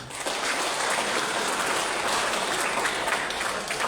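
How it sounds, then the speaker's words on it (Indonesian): Dense, sustained applause from a large crowd of high school students at the opening ceremony of a district school sports competition, a continuous loud roar of many hands with no gaps or voices. "Mari kita tepuk tangan dulu."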